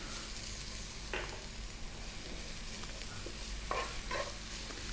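Onion and garlic frying in olive oil in a pan over above-medium heat, a steady close sizzle with a few brief stirring scrapes and clinks.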